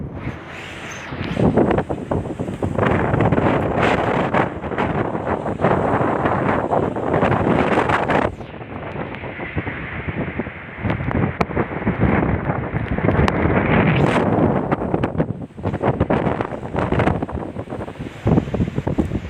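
Strong, sustained gusts of Typhoon Rolly roar past a second-floor building in Marinduque, a loud, continuous rush of wind buffeting the microphone that surges and eases without a break.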